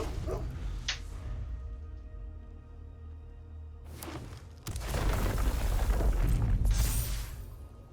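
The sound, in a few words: dog token barking in video game MTG Arena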